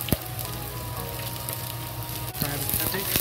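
Cabbage with onion frying in a wok makes a steady, close sizzle with a couple of brief utensil clicks, faint overall and without speech.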